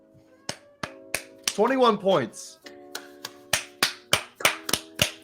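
A single person claps about a dozen times at an uneven pace, sharp close slaps, interrupted briefly by a spoken line, in a quiet room.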